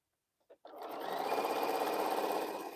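A sewing machine stitching quilt pieces starts after a couple of small clicks, then runs as a steady, close motor whir with a fast needle patter, with no one speaking.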